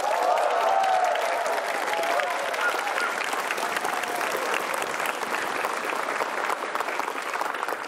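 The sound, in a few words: applause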